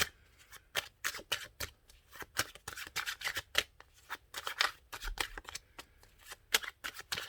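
Tarot cards are shuffled by hand in quick, uneven bursts of crisp riffling and flicking, close and clear, with short pauses between runs.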